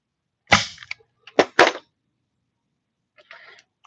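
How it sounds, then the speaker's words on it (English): Staple gun firing into upholstery fabric at a corner: several sharp, close snaps in a quick cluster, followed by a fainter rustle of handling a few seconds later. "I'm gonna do one more staple to the corner side here"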